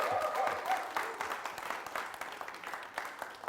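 A studio audience applauds a guest on a talk show, moderate steady clapping from a small crowd throughout, somewhat distant.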